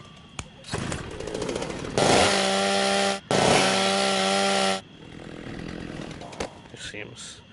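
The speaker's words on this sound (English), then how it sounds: "And you wouldn't see a chainsaw like this" A loud chainsaw in a VR zombie video game roars in two long sustained bursts, briefly cut between them, with quieter game noise before and after.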